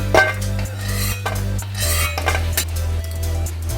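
Fried lentil dumplings are lifted out of hot oil in a pan with a metal slotted spoon, giving scraping, clinking strokes against the pan over a low steady hum and faint sizzle, close and without talking.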